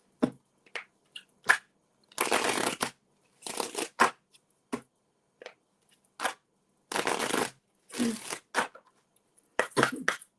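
Tarot cards being shuffled in repeated bursts of riffling and sliding, fairly close and crisp, separated by short pauses, with no talk over them.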